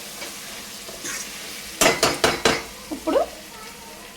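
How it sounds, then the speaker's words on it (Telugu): Ginger-garlic paste fries in a pan for a mushroom and cashew curry, with a low sizzle under a few sharp scraping stirs of a spoon, and a voice speaks briefly. "కొంచెం పచ్చివాసన పోయేదాకా వేగించాలండి అల్లం వెల్లుల్లిపాయ పేస్ట్."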